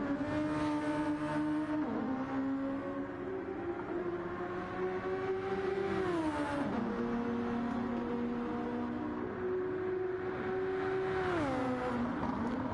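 A Gran Turismo 7 race car on a push lap during Super Championship free practice: a loud, continuous engine whine with rising revs and sharp drops at gear shifts, alone with no talk.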